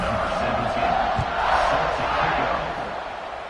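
A stadium crowd at a football game roars and cheers as kickoff approaches, a dense, sustained wall of voices with a few whoops rising above it.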